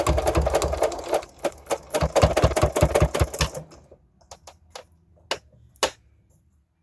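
A sewing machine stitches along the edge of a fabric safety mask in quick rattling bursts, pausing briefly between runs, then trails off into a few isolated clicks.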